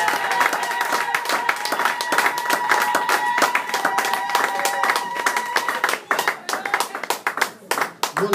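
A church congregation claps and calls out in acclamation, dense steady applause with voices mixed in, thinning into scattered claps near the end.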